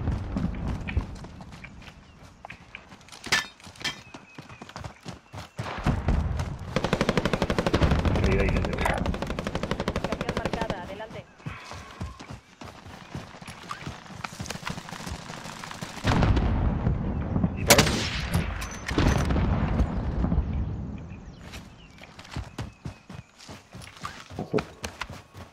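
Video game gunfire crackles in rapid automatic bursts and scattered single shots, with loud sustained volleys alternating with quieter stretches, some shots near and others distant, and occasional voices in the mix.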